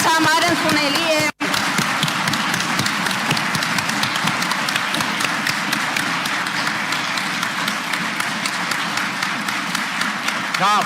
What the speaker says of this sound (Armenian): Ընդդիմադիր պատգամավորները սկսել են հարվածել սեղաններին, իսկ ՔՊԱ-ականները նրանց գործողություններին արձագանքել են ծափահարություններով